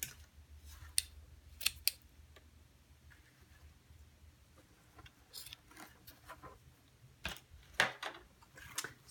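Scissors snip ribbon on a handmade mini album, several quiet, sharp cuts scattered across the moment, close up over a faint low hum.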